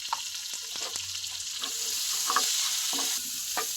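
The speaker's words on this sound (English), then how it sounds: "So we are sweating off those onions." Red onions sizzle and sweat in a hot curry pot, a steady close frying hiss broken by scraping and stirring taps of a spoon.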